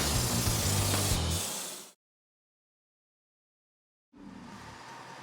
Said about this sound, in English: see who gets the pleasure of spraying in a bed liner